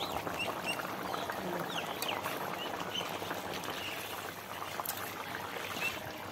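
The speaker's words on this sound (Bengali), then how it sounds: "এই যে নারকেলের দুধটা দিয়ে দিচ্ছি বন্ধুরা" Coconut milk pours into a cooking pan of potato and paneer curry, giving a steady liquid trickle and splash under soft kitchen noise for several seconds.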